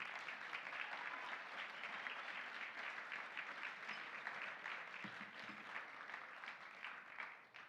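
A large audience at a global cocktail bartending competition semi-final applauds the competitors in a sustained, even wash of clapping that tapers off at the very end.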